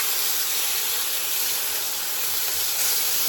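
Steady broadband sizzle from a frying pan left on heat that is too high, a continuous hiss with no talking over it.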